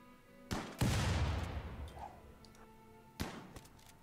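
Colonists shooting in RimWorld Alpha 15: a few sharp gunshots, one followed by a longer rumbling blast, then another cluster of cracks a few seconds later, moderately loud with no talk.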